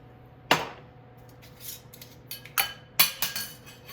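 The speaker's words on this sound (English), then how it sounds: "I'm going to put some onions in" Freeze-dried onions drop into a small glass container with a few sharp, close clinks and light rattles spread out over the quiet, with no voices.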